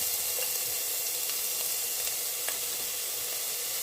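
Garlic frying in a pan over low heat gives a steady, soft sizzle with faint pops and crackles, heard alone and at a low level throughout.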